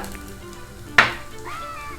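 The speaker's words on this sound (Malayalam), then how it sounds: "ആ എണ്ണയിൽ തന്നെ നമുക്ക് ഒരു ചെറിയ കഷ്ണം ഇഞ്ചി ഇതേപോലെ നീളത്തിൽ കനം കുറഞ്ഞ് അരിഞ്ഞത് ചേർത്ത് കൊടുക്കുക" Thin slices of ginger drop into hot oil and set off a sudden sharp sizzle that flares loudly, then settles into a softer crackle over a low background hum.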